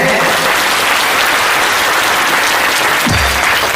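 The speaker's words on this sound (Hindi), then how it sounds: "इन सभी के लिए एक बार जोरदार तालियां हो जाए" Loud, steady applause from a crowd at a Shiv Mahapuran katha gathering in Naushahra, continuous for the whole stretch, with a brief low thump near the end.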